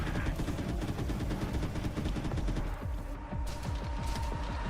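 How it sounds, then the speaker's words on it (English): Rapid nail gun fire in a blocky, Minecraft-style boomer shooter with destructible walls, a dense stream of sharp repeated shots running continuously and loud throughout. "Oh, you get a nail gun."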